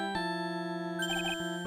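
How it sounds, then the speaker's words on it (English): A phone ringtone in the Ace Attorney video game: a steady electronic chord of sustained tones with bright chiming notes layered on top midway, loud and with no talk over it. "Sorry, that's my phone."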